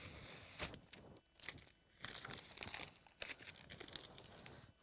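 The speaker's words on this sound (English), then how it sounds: "I'm going to try and keep my hand off of the acrylic that I'm peeling off." Protective masking film peels off an acrylic sheet in a close, continuous crackling and tearing rustle, with short pauses between pulls and no talking.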